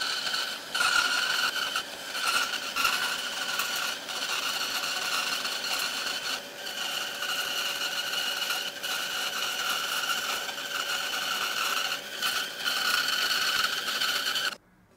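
A Metabo BAS 261 wood band saw slicing a veneer-thin strip from a wooden piece, its motor whirring steadily with a continuous high rasping cut, close and loud, stopping abruptly at the end.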